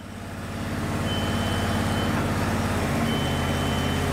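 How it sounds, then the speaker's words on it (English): An Eastract tracked, remote-controlled robot car loader unloads a car off a tow rig, its steady reversing beeps repeating over a continuous loud engine drone. "It'll unload the car right off."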